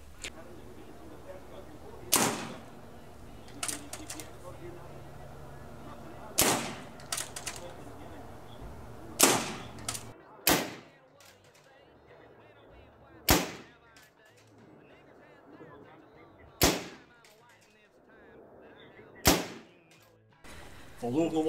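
Shots from an MP5-style CO2 air gun fired outdoors in a yard land as sharp separate cracks, about ten of them in irregular spacing. Quiet background fills the gaps between shots.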